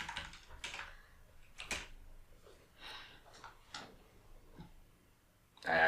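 Keys clatter on a computer keyboard in short bursts of quick, light taps with pauses between, fairly close, ending in a louder clack, with no voices.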